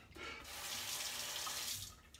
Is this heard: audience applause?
no